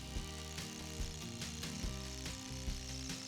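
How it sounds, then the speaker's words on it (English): A hammer drill bores holes for post bases at a snowy barn-building site, giving a loud, steady, harmonic motor whine with rapid hammering and regular bumps as the bit bites, close and continuous. "drilled them with the hammer drill"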